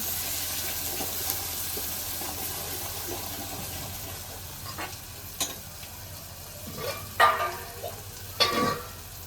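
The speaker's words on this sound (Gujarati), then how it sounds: "બે ચસની મરચું નાખવાનું પછી એને ખૂબ કકડવા દેવાનું" Chili powder crackles and sizzles in hot oil for a bitter gourd curry, a steady frying hiss broken by a few sharper pops toward the end.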